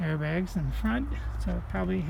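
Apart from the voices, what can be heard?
No everyday noise stands out behind the speech.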